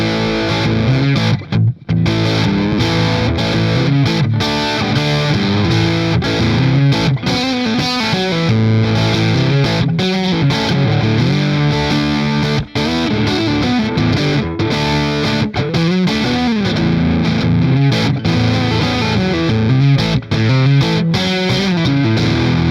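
Rick Turner Renaissance Deuce custom electric guitar played with its piezo pickup blended in, producing a continuous, loud, effects-laden distorted tone with chords and melodic lines running steadily without talk.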